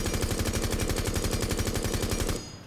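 Striker's automatic weapon in Rainbow Six Siege firing one long, continuous burst during a recoil test, with rapid, evenly spaced, loud close shots that cut off sharply, leaving a brief decaying echo.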